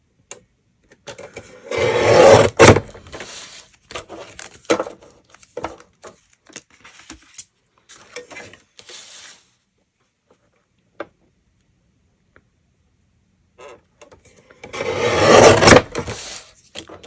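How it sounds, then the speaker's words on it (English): Cutting inked card pieces in half for gatefold cards, with a close, firm trimmer or blade stroke, then scattered small handling taps and rustles, a quiet gap, and another loud cutting stroke near the end. "on this one, I'm going to cut each of them in half"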